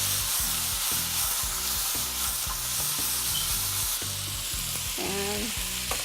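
Paprika and spices fry in a pan with a loud, continuous sizzle, while a utensil knocks and scrapes against the pan in a quick, regular rhythm close by, and nobody speaks.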